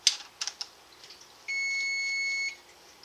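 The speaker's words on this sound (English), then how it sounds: "Timer" A kitchen timer sounds one steady electronic beep lasting about a second, clear and close after a few light clicks and taps, with no voices.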